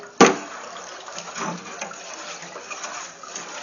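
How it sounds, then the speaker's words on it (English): Salt being stirred into hot, steaming water to make a fabric dye bath: a sharp clink at the start, then a steady swishing slosh of liquid swirling continuously, close and moderately loud with no talking. "So we'll give that a stir."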